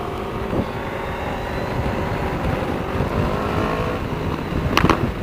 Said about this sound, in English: they both downshifted or backfired at the same time